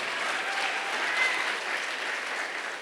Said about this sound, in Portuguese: Quer aplaudir? Aplauda Jesus